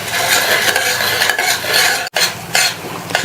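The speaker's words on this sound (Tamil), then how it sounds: "இப்ப இந்த மசாலாவுக்கு மட்டும் தேவையான அளவு உப்பு சேர்த்து ஒரு தடவை நல்லா மிக்ஸ் பண்ணி விட்டுருங்க" A spoon stirs spice masala with salt in a pan while cooking a vegetarian meal, producing loud continuous scraping and rubbing with short pauses, close by and unaccompanied.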